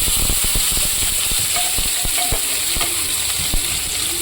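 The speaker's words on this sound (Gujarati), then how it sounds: "એની અંદર આપણે નાખીશું રાઈ, થોડું જીરું અને ચોપ કરેલા ટામેટાં." Mustard seeds, cumin and chopped tomatoes sizzle loudly in hot oil in a pan, with a dense, continuous crackle and a few sharp pops and stirring clicks close up.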